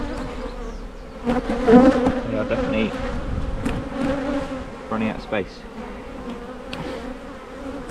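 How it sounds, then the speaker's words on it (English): Honeybees buzz steadily around an open hive during a frame inspection for artificial swarm control, a dense close droning hum with a person talking over it. "And you can see there are bees hanging off the bottom."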